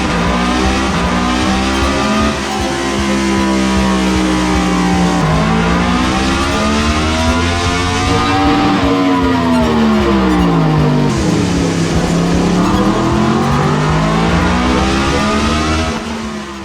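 A 2022 Yamaha MT-10 motorcycle fitted with an Akrapovic exhaust and tune revs hard and close on a dyno, its engine note rising and falling in long sweeping pulls with no talk over it.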